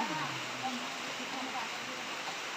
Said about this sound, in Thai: ฝนนะคะฝนตกนะคะ